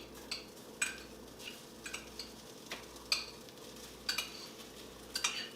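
Chicken and vegetable fried rice dropped into a hot pan, with a low sizzle under a series of sharp metallic clinks and taps at irregular intervals.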